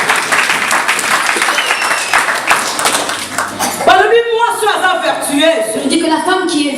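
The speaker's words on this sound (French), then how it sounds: "Applaudis pour la parole de Dieu." A church congregation bursts into applause at a French-language Sunday service in Chartres, loud and sustained for about four seconds before a preacher's voice and music take over.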